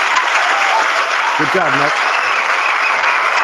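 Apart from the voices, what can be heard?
recorded applause played from a YouTube video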